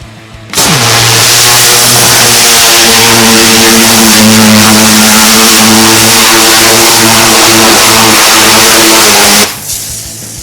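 A loud gas pressure washer fitted with a spinning turbo nozzle blasts a pumpkin, its engine roaring steadily close by for about nine seconds before cutting off abruptly.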